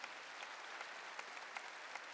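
Church congregation applauding during a sermon, a dense, even wash of many hands clapping at a distance, sustained throughout at low volume.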